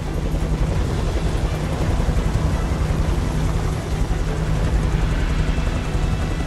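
Helicopter in the video game Beyond Two Souls, a steady low rotor drone with engine noise running continuously and loud throughout, no talking.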